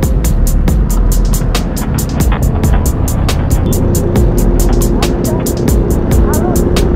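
Kawasaki ZX6R motorcycle idling smoothly nearby, a loud, steady engine drone with a fast regular ticking pulse running through the whole stretch.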